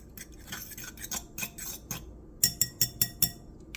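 A metal utensil clinks against a bowl while whisking eggs. It starts with soft scraping and stirring, then ends with five sharp, evenly spaced taps close by.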